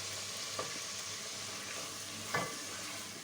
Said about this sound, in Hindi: दही को थोड़ी देर भूनूंगी